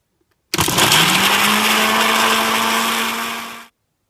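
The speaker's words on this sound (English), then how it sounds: "So I'm just gonna blend it now." Blender whirring through herbs with a couple of spoonfuls of water, starting abruptly, running loud and steady for about three seconds, then cutting off.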